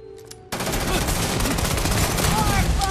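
Sustained gunfire in the space game Starfield, a dense, loud barrage of shots that erupts suddenly after a brief quiet moment and continues unbroken.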